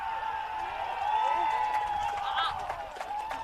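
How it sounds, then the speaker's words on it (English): Crowd at an amateur men's rugby cup match on ANZAC Day, Warners Bay vs Cardiff, building into a sustained roar with some clapping as a conversion kick is lined up, while a commentator talks over it. "Listen to the crowd."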